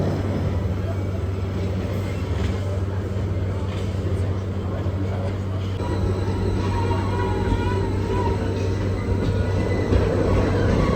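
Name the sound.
train slowly descending from Christ the Redeemer, Rio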